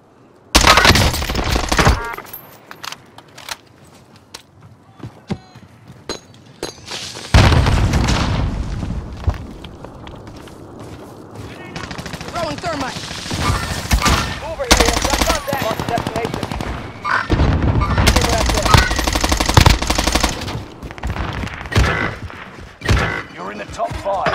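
Bursts of automatic rifle fire and single shots in a Call of Duty: Modern Warfare firefight, loud and close, with booming impacts and quiet gaps between volleys and a voice speaking at times.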